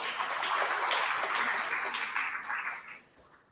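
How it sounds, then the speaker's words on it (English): Festival audience at DWU's 30th festival applauds with a dense, even patter of clapping that holds steady and then tapers off toward the end. "Let's give them a round of applause."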